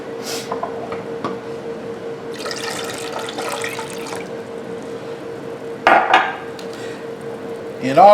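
Apple cider vinegar is poured into a measuring cup in a kitchen during banana pepper canning, with intermittent light trickling and splashing over a steady background hum and a couple of small clinks.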